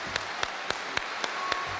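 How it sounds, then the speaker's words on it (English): A gathering receives a guest speaker with faint, distant applause, a soft wash of clapping marked by a few sharper regular claps standing out, quiet and far off throughout. "Let's receive him with a warm round of applause"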